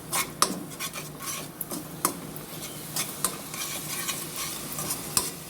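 Dry spices, crushed chillies and turmeric frying in a pot for a cabbage and potato sabzi, giving a steady close sizzle with sharp scrapes and clinks of a spoon stirring against the metal pot.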